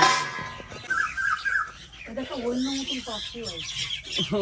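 Birds squawk and chirp in agitated bursts as they fight, harsh calls rising and falling close by, with people talking over parts of the scuffle.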